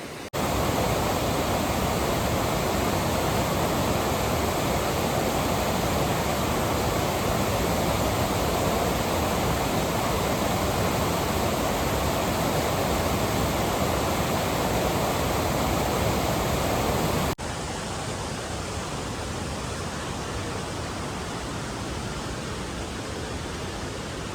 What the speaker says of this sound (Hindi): अभी तक नदी का शोर लगातार हमारे कानों में गूंज रहा था